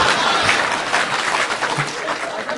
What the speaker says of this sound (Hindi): तुम भी ताली बजाओ।